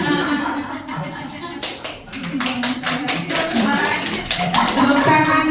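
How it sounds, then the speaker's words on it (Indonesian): Hands clap in applause for two presenters at a positive-culture school session, starting as a few sharp taps and building into steady close clapping from a small group, with voices and light laughter underneath. "Tepuk tangan buat Parais dan Pak Jaki."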